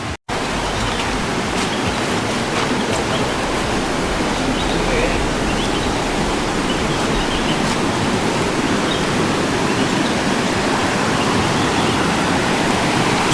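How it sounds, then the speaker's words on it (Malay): Swift river water rushing loudly and steadily just after rain near Tamparuli, a dense continuous roar that fills the whole stretch after a brief opening thump. "air deras"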